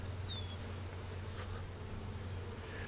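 Honey bees hum in a low, steady drone at an open hive after the honey harvest, faint and continuous with no voices.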